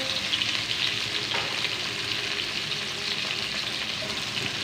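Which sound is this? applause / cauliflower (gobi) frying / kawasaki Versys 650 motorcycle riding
cauliflower (gobi) frying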